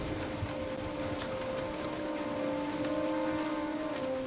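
Steady rainstorm in the Jurassic Park video game, dense rain pattering on surfaces with a constant low hum running underneath, no voices.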